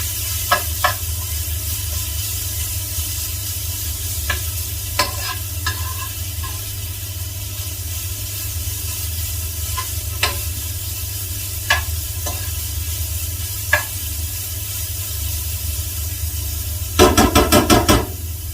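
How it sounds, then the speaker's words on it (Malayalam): A Kerala-style green gram stir-fry is stirred in a pan, a steady close sizzle with scattered spoon clicks and scrapes, ending in a brief rattling burst of stirring. "എല്ലാം കൂടി നമുക്ക് ഇളക്കി യോജിപ്പിച്ച് കൊടുക്കുകയാണ്."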